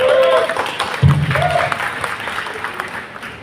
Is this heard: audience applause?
yes